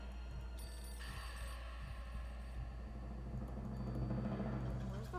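Telephone ringing inside the Nancy Drew: The Final Scene video game, a steady electronic ring sounding over low rumbling ambience for several seconds.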